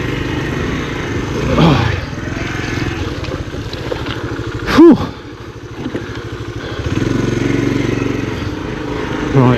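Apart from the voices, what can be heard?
1980 Honda CT110 trail motorcycle riding through deep ruts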